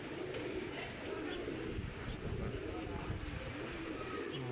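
Teddy pigeons in a crate at a pigeon loft, soft low cooing running beneath a steady broadband background noise, with voices talking nearby.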